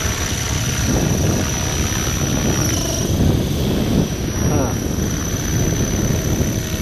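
A T-Rex 600 ESP 3G flybarless RC helicopter on 12S power spins its rotor at about 2100 RPM. A loud, constant whirring drone runs throughout, with a thin high whine and rhythmic blade chop.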